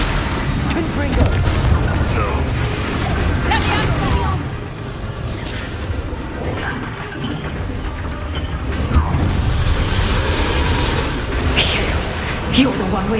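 Confringo fire spells in Hogwarts Legacy bursting in repeated booming blasts and crashes amid combat clatter, dense and loud throughout, with character voices shouting over the fight.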